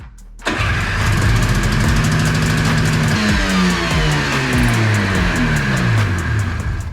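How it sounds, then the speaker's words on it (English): A Yamaha Phazer snowmobile's small engine, likely sucking air, kicks into life and races at high, unsteady revs, its pitch swooping up and down continuously, loud and close. "that revving, out of control revving, probably means it's sucking air somewhere"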